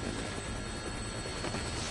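A helicopter in the Dead Rising video game flies close by with a steady, dense rotor and engine drone, constant in loudness with no talk over it.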